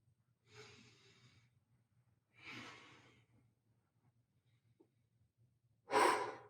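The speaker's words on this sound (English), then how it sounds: "Breathing with the movement." Three slow, audible breaths during a hip mobility exercise: two long exhales a couple of seconds apart, then a sharper, louder exhale near the end, over a low steady hum.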